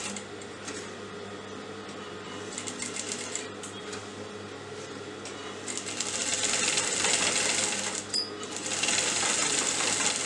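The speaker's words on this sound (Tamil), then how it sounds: "இப்போ இந்த கேன்வஸ் ஓரத்தை நம்ம தைக்க போகிறோம்." A sewing machine runs steadily, stitching along the edge of a canvas interlining with orange thread on a collar neckline. It whirs continuously and close, grows louder and faster partway through, and has brief pauses.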